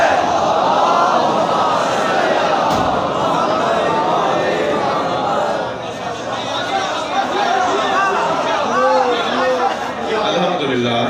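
A large gathering at a Shia majlis loudly recites salawat together, producing a dense, continuous wall of massed voices that chant in unison and swell throughout.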